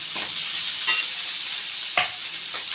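Onions sautéing in a hot pan for Chettinad okra mandi, a steady close sizzle with a few sharp spatula scrapes and taps against the pan.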